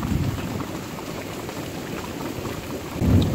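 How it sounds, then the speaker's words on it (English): Heavy rain pours steadily through a nighttime thunderstorm, a dense hiss with low rumbling underneath and a deeper swell of thunder near the end; no voices. "But it's a storming out."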